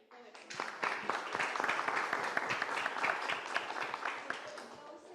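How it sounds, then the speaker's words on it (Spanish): A crowd applauds steadily and fairly loudly, many hands clapping at once in a dense, continuous burst that holds for several seconds. "Un aplauso al equipo"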